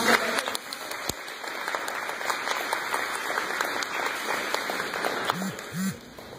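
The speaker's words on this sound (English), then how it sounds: "we can give them a round of applause" Volunteers receive a round of applause from an audience of parents at a school demonstration, a steady patter of clapping filling the room throughout, with faint low murmurs near the end.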